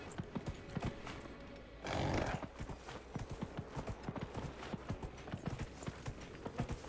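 Horse hooves clip-clop in a steady, even rhythm while riding in the video game Dragon Age Inquisition, loud and close, with a brief burst of rushing noise near the start.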